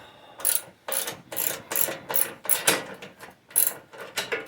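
A hand ratchet turns a bolt on a Cub Cadet riding mower, giving close, quick bursts of clicking in a steady back-and-forth rhythm with brief gaps between strokes.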